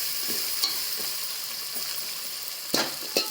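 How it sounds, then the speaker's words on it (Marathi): Onion softening in a pan for a spicy Maharashtrian prawn rice, a steady broadband frying sizzle with a few short stirring scrapes and clinks, moderately close and without talk. "आता हे छान परतून घ्यायचं कांदा परतला गेला बघा नरम झाला कांदा"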